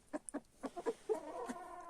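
A broody guinea hen makes low, repeated clucks and soft croaks close by at its nest, first in short separate bursts, then in a steadier murmuring run.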